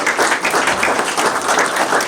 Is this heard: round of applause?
yes